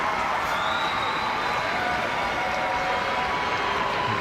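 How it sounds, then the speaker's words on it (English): At full time of a Scotland women versus Spain rugby match, the stadium crowd gives warm applause, heard as a dense, even wash of clapping that continues throughout. "Warm applause from the crowd for the Scottish side."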